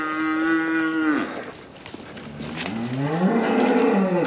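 An old Hereford cow moos loudly and close by during cattle loading, with one long low call, then a short pause, then a second rising moo. No one talks over it.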